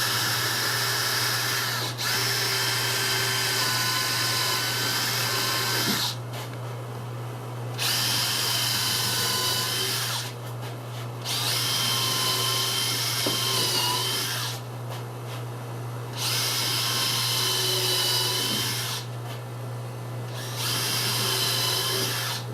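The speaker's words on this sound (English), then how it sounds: "Now we're going to go like pre-drill, put pilot holes because we don't want to split this wood." A power drill bores pilot holes into wood for a DIY teardrop camper galley frame, whining in several sustained bursts of about four seconds, separated by short pauses, loud and close over a low steady hum.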